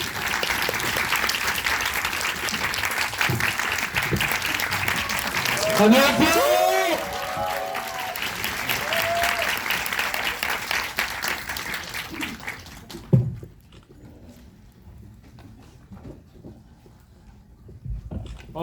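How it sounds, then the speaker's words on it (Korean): Cinema audience at CGV Seomyeon in Busan applauding as actors enter, with loud sustained clapping and a few whistles for about thirteen seconds before it stops and a voice greets the crowd. "입장해 주세요, 배우님들. 박수로 맞아주세요."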